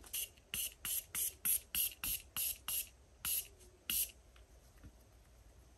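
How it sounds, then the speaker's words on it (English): Quick bursts of facial setting spray hiss from a pump bottle, about a dozen short sprays in a steady rhythm and close to the microphone, with no talking. "And then I'm just gonna spray down my face with my new setting spray."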